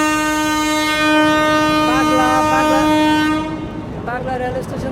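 A train horn blares loud and sustained as a train passes on the rail line from Padma Bridge toward Khulna and Benapole near Narayanganj, Bangladesh, with wheel rumble and squealing underneath, the horn cutting off near the end.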